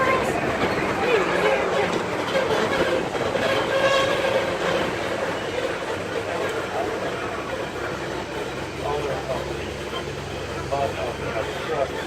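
A parking lot tram at Magic Kingdom rumbles along with steady road noise and rattling, while voices talk over the continuous drone.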